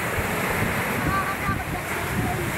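Waves breaking on a shore on a windy day at the onset of the northeast monsoon, a steady broadband surf roar with wind buffeting the microphone, continuous and fairly loud throughout.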